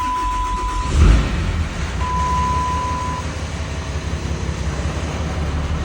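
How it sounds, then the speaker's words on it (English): A G56 transmission with a dual-disc clutch in a Dodge Sterling Bullet truck idles loud and close, a steady low rumble with a brief thump near the start and a faint tone heard twice. "the clutch is not very loud for a dual disc"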